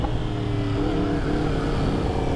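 A Yamaha R1 motorcycle engine runs loud and close under throttle, a continuous harmonic drone whose pitch rises and shifts slightly as the rider works the throttle.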